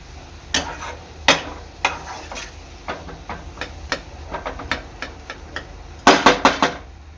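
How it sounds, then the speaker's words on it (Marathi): Crushed pineapple roasts in a pan while a spatula stirs it, giving a steady series of close taps and scrapes against the metal that turn into a quick flurry near the end. "एक 5 ते 7 मिनिटं अननसचा क्रश सुद्धा चांगला भाजून घ्यायचा आहे।"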